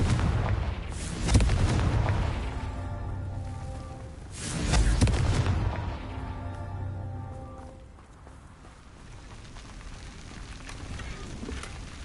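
Fiery Confringo spell blasts in a video game, two heavy booming explosions a few seconds apart, each rumbling away into a long fading tail.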